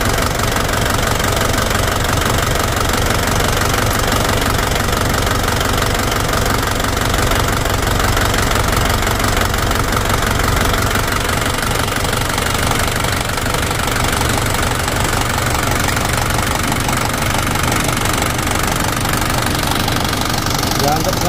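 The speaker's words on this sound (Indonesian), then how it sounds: "Tadi mesinnya antang, tiba-tiba goyang gini." Toyota Dyna diesel engine idling with a rough, uneven shake, a loud steady rumble and knocking throughout, with no talking over it.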